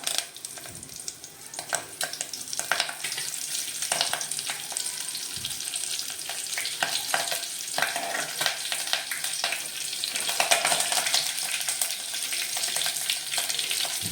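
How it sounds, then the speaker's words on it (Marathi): Curry leaves crackle and sizzle in a hot pan with roasted cumin, a bright continuous frying hiss with scattered pops and occasional soft stirring. "जिरे भाजल्यानंतर मी त्याच्यामध्ये टाकते कढीपत्ता"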